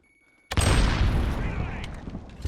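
A grenade explosion in the game Modern Warfare 2v2, a sudden loud boom after brief quiet, followed by a long rumbling decay with scattered debris crackle.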